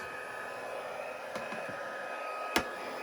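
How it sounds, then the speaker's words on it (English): Steady broadband whooshing of a heat gun blowing continuously, with a couple of faint clicks and one sharp knock near the end. "I'm going to be using my heat gun"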